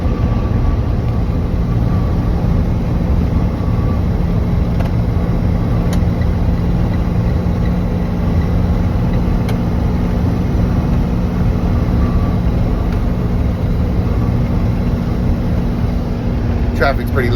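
Inside a truck cab while driving down the freeway after a diesel fill-up, a loud steady road and engine rumble continues without a break. A few faint clicks come through near the end.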